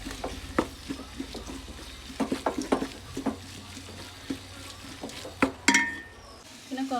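A spoon scrapes and clinks rhythmically against a pan as chili powder and spices are stirred in for a chicken biryani, with soft sizzling frying underneath and a louder clatter near the end.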